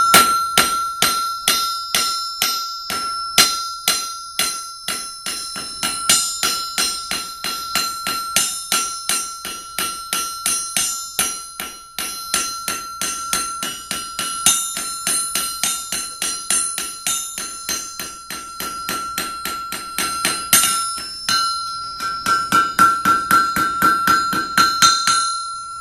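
A blacksmith hammers hot iron on an anvil to form a leaf, with steady rapid strikes ringing out bright and metallic, each blow followed by a sustained bell-like ring, continuing with a brief change in tone near the end.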